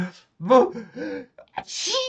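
A voice imitates a sneeze up close, a quick breathy intake rising into a sharp, hissing burst.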